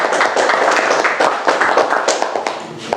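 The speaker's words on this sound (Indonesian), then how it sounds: "Tepuk tangan untuk kelompok 1." An audience at a school teachers' group presentation claps steadily for group 1, with dense, fairly close hand claps running without a break.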